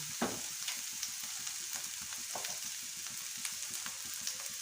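Vegetable Nutrila chowmein frying and being stirred in a hot pan, a steady faint sizzle with quick stirring scrapes throughout.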